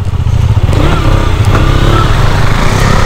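A 2019 KTM Duke 125 motorcycle heard while riding, its 125 cc engine droning loud and steady close up amid wind rush, with no talk.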